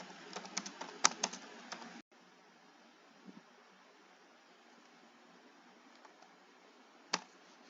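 Typing on a computer keyboard: a quick, close burst of clicking keystrokes for about two seconds, then near silence broken by one isolated click later on.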